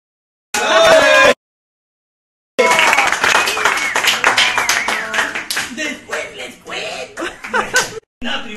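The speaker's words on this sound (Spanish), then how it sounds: "Estamos en el almuerzo de Stephanie y le damos un aplauso." Scattered hand clapping and laughter among a small group at a lunch gathering, a brief burst followed after a pause by irregular claps mixed with chuckles and overlapping voices nearby.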